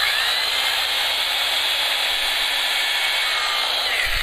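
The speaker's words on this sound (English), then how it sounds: "Okay, I'm going to drill holes all the way." A power drill bores holes in a homemade underwater camera housing, making a loud, close, continuous whirring drone that holds steady throughout with no talk.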